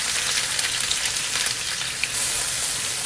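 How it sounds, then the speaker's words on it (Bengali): Chopped onion hits hot oil already crackling with whole cumin for a bottle gourd curry, giving a steady, dense sizzle that stays close and even throughout with no voices. "এখন এতে দিয়ে দিব পেঁয়াজ কুচি।"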